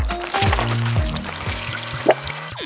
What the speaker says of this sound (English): First, I pour it into the two separate plastic cups I made.